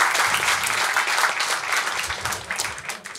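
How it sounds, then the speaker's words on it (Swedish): Dense audience applause fills a live podcast recording in front of a crowd, steady and fairly loud for about three seconds before tapering slightly at the end. "kan vi få en applåd för att sätta igång?"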